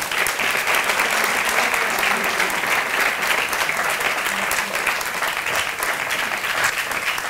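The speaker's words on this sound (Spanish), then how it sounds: "Un fortísimo aplauso." Steady, full applause from the audience at a business gala in Finestrat, honoring a career award recipient, continuous and even from start to finish with faint voices beneath.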